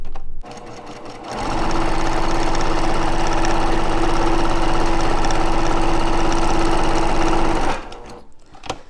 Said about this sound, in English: we're going to stitch with a 1/4 inch seam all the way down